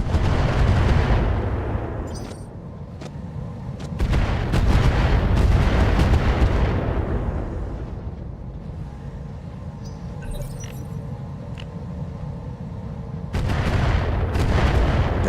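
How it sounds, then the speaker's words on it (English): Mech weapons in RogueTech fire in several heavy bursts: loud booming volleys at the start, a long rolling barrage that fades away, a quiet stretch of low hum, then another close burst at the end. "Fire. All weapons."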